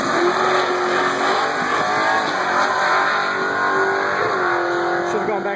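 A drag car with a 5.0 engine makes a run at a dragstrip, its loud sustained engine roar holding steady at high revs from start to finish.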